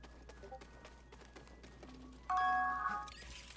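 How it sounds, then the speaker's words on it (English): A Discord notification chime rings out once, a short bright tone standing out over faint clicking from a Star Wars Jedi: Fallen Order gaming session. "That chime you heard was a notification I have on Discord."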